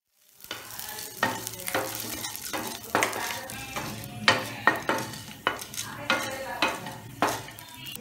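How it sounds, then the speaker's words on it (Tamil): Urad dal and garlic cloves roasting together in a pan for chutney, a steady close sizzle punctuated by repeated rhythmic scrapes and metallic clinks of a spoon stirring against the pan. "இப்ப இந்த உளுத்தம் பருப்பு செவக்கற வரைக்கும் இது ரெண்டையும் சேர்த்து நம்ம வறுத்துக்கலாம்."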